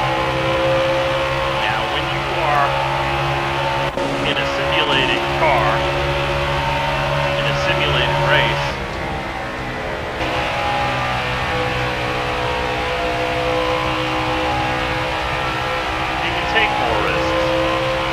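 An ARCA race car engine in a sim racing game drones steadily at high revs with a sustained buzzing tone, shifting pitch midway, while someone talks over it.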